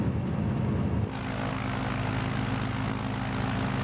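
Steady, loud aircraft engine drone during a takeoff roll in Microsoft Flight Simulator 2020, a dense continuous roar with a noticeable shift in tone about a second in, with no talking.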